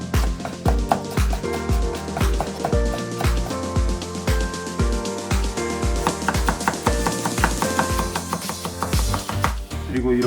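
A knife chops through mushrooms on a cutting board in quick, steady strokes, each cut landing as a sharp tap, close and continuous over a faint background.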